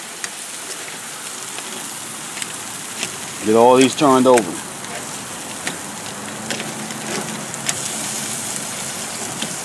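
Crab-stuffed lobsters sizzle over an open flame, a steady close hiss dotted with sharp crackles and pops throughout, while someone speaks briefly in the middle.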